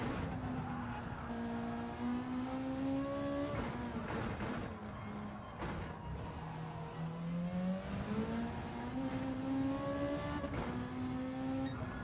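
Race cars at Bathurst in Gran Turismo 7, including a 2018 GT-R R35 Group 3 car, roar continuously as engine pitch climbs and drops through gear changes, with a brief tyre squeal.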